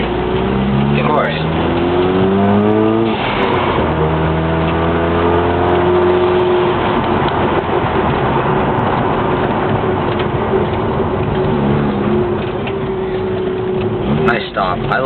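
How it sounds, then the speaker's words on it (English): A Mazda RX-7 with a factory blow-off valve revs up through rising engine tones, followed by a sharp airy whoosh as the throttle closes, then a rumbling, hissing settle, heard from inside the car. "he's that little homemade blow-off valve"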